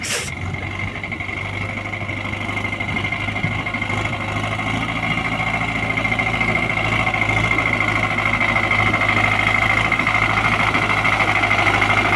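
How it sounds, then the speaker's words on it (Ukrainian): A tractor's diesel engine labors steadily while climbing uphill, a loud, continuous low drone with a faint whine, growing slightly stronger over time. "Дивіться, як він іде, як трактор йде вверх."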